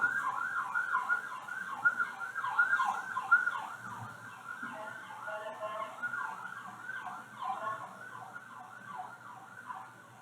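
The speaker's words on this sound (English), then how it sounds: "Sorry, let's let these sirens go." Wailing emergency sirens cycle continuously at moderate volume, somewhat distant, with a faint low rumble beneath.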